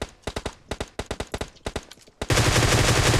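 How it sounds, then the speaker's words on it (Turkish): Rapid bursts of gunfire in the PUBG Mobile battle royale game, a quick string of sharp shots in uneven clusters followed by a sudden loud, sustained noise burst that masks everything else. "Sesin geldiği yere sıktım tamam mı?"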